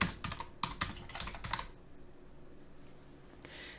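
A computer keyboard clicks in a quick run of close, crisp keystrokes while a title is typed in, then falls quiet before one last short tap.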